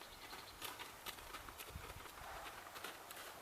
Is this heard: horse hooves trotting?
yes